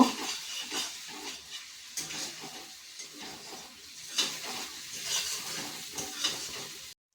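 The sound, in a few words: stirring vegetable curry frying in oil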